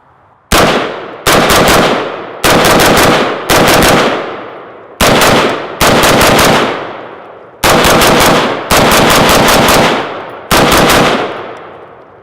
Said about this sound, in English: 30 rounds of freedom from a machine gun clip